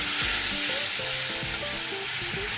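Ground cumin and coriander sizzle in hot oil as tomatoes and green chilies go into the pan, producing a loud, continuous close frying hiss with faint stirring scrapes.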